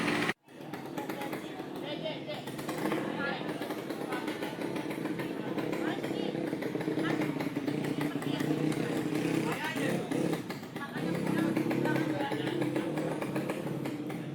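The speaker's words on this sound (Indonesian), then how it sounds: "Suara motor." A motocross motorcycle engine drones steadily in a busy paddock at a grasstrack and motocross championship, a constant mid-distance rumble with people chattering nearby throughout.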